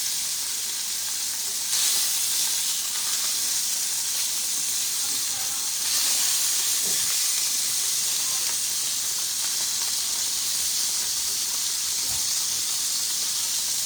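Food searing in a pan over medium-high heat, a steady close sizzle and hiss that holds throughout with small crackles and pops, no talking.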